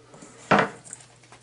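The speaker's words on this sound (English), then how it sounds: "Mix it around a little bit." A spoon or utensil clanks once against a bowl while salmon patty mixture is mixed, a single sharp clatter followed by faint scraping and a small tap.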